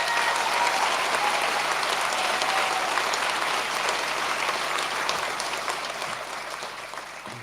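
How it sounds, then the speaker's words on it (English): A graduation ceremony audience gives a big round of applause for supporting staff, a full, sustained roar of clapping from many hands that holds steady and fades gently toward the end. "so maybe we should give them a big round of applause"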